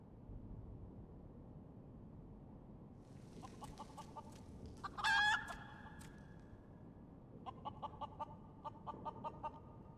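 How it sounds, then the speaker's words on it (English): A chicken minion called Enkidu from the game Final Fantasy XIV clucks and squawks in short bursts, with a louder cackle in the middle, over a steady low game backdrop. "you get Enkidu. The chicken"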